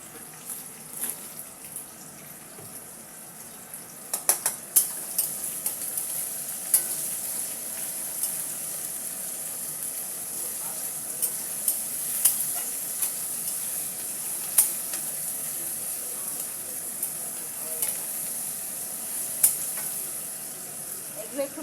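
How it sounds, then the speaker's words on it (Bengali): Potatoes and leaves fry steadily in hot oil for a white potato curry, a continuous bright sizzle with occasional stirring clinks of a spoon against the pan. "এগুলো একটু ভালো করে ভেজে নেব।"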